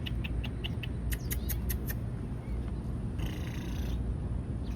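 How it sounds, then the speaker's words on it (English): A small cat makes soft purring and faint sounds close by, amid a steady low rumble of background noise and a few light ticking clicks, with no talk heard. "They have a little cat here."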